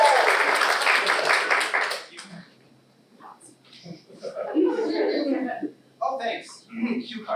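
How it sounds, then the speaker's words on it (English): An audience applauds loudly for about two seconds, then the clapping fades out and someone speaks and chuckles over a quiet room. "let's give a great round of applause"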